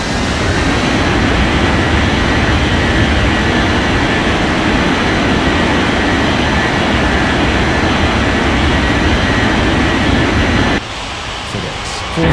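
A steady, loud jet engine roar fills the air traffic control video game as a FedEx jet prepares to take off from runway 14 right, holding constant before cutting off abruptly near the end.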